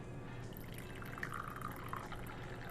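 Brewed tea being poured out of a pot, a soft trickling and splashing of liquid, faint and close, running steadily for a few seconds with no talk.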